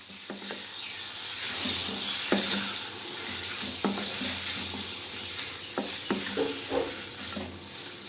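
Marinated swamp eel frying with spices in a pan, a steady close sizzle broken by scraping and clattering stirring strokes that come in irregular bursts.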